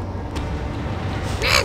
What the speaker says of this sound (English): Damn bird.